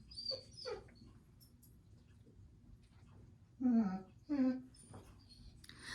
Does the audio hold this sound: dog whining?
yes